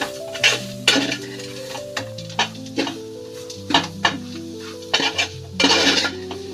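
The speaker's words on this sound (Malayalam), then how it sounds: "ഇനി നമുക്ക് ഇത് ഒന്ന് ഇളക്കാം" A spatula stirs jackfruit thoran in a pan, with repeated close scrapes and metallic knocks at an irregular rhythm over a low sizzle. There is no talking.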